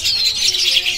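Sooty-headed bulbul (kutilang) chicks, one of many young birds being unpacked, give a continuous high, busy twittering of overlapping chirps, fairly close and without talk.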